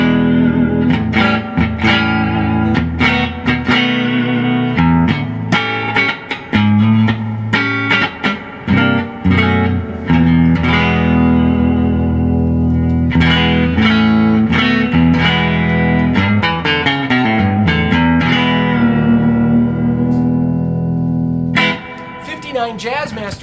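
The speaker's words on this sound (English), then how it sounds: "That broader winding gives you that bigger bass. That's kind of part of that Jazzmaster sound." A 1959 Fender Jazzmaster electric guitar in two-tone finish, with broad-wound pickups giving a big bass, played loud and continuously through effects with reverb and some distortion, strummed chords and picked notes filling the whole stretch.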